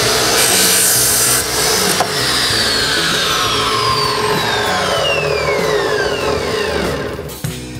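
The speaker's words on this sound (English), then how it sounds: "Let's go ahead and chop the end off here so we can start fresh." A metal cutoff saw chops through the end of a clamped PTFE hose, a loud, close, steady grinding rasp with ringing, shifting high tones that holds for several seconds before tapering off abruptly as the cut finishes.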